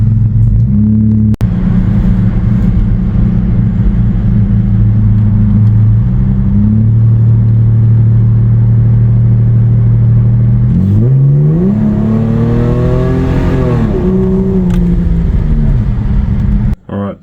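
A cammed Ford EL Fairmont Ghia idles with a loud, lumpy rumble, then its engine revs up hard in a brief full-throttle run on the road before settling back, with the steady drone filling the whole stretch.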